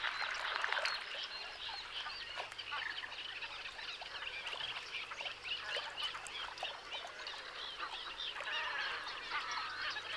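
A group of grebes calls during a courtship display on water, producing dense, continuous chattering and honking cries that sound fairly close and lively throughout, with no voices.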